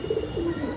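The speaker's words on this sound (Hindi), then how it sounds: "बहुत बेहतरीन स्टैंडिंग का कबूतर है भाई" A pigeon coos softly up close, a short low throaty burble with a slight warble.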